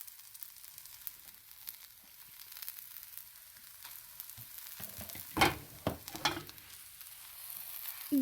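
A spicy desi-style pancake sizzles quietly in a pan, then a spatula presses and flips it with a few sharp scraping clatters before the frying hiss returns, with no one speaking.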